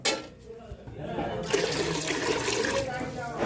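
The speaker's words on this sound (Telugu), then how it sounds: "ఇంకో చెంబు పోసుకుందాం" Water from a metal jug pours into a cooking pot in a home kitchen, a broad splashing gush filling the second half after a quieter start, with no talking heard.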